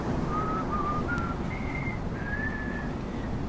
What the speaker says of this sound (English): I struggled with my whistle there today